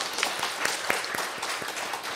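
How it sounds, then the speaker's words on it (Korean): A church congregation at a New Year Sunday service applauding in welcome, a short burst of many hands clapping in a steady patter, moderately distant, with no talking. "네, 박수로 환영하시겠습니다."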